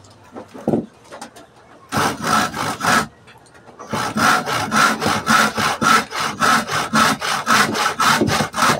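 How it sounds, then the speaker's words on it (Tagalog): Hand saw cutting through wood to test its sharpness: a few tentative strokes, a pause, then a long run of steady, rhythmic push-pull rasping strokes, loud and close. "kung mapuputol ba talaga yung kahoy o matalas na ba talaga"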